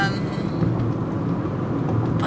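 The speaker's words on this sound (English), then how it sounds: "so we're in the car right now" Interior of a moving car, a steady low road and engine rumble with faint higher rattles, continuous and moderately loud throughout.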